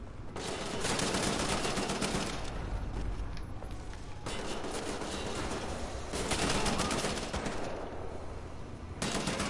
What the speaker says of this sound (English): I sniped that guy from across the map.